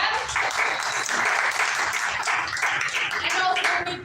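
An improv show audience clapping loudly and steadily for a comedy team, a dense roar of many hands with cheering voices mixed in.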